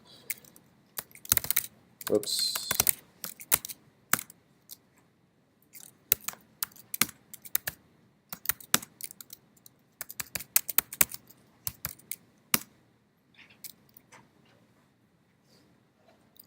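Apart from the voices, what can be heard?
typing numbers on a computer keyboard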